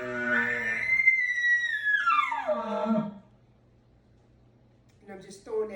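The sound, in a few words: imitated bull elk display bugle, lip sputter through tube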